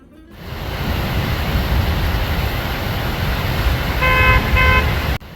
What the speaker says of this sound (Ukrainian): хто там сигналить?